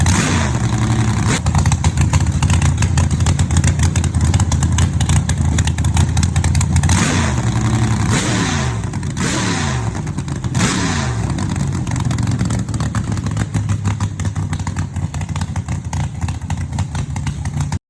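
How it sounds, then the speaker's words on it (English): Custom-built 1928 Chevrolet Coupe hot rod with a 496 ci V8, a loud, close, lumpy idle with rough clattering pulses and several throttle blips that rise and fall, continuous throughout. "this custom-built 1928 Chevrolet Coupe Hot Rod is a handcrafted, patina-rich machine powered by a thunderous 496 Ci V8"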